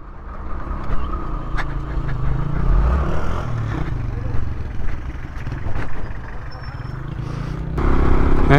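Motorcycle riding on a tarmac road through a valley, with a steady mid-pitched engine drone and wind rumble throughout, rising slightly toward the end; the rider speaks briefly over it.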